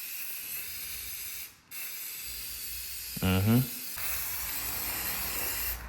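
A spray paint can hisses steadily and close by while working on a rear roof spoiler for a Dodge Challenger R/T, with a brief pause and a short spoken remark partway through.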